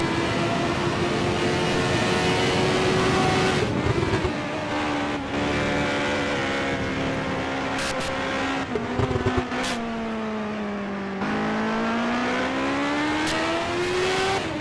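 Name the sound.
CART race cars accelerating down the straight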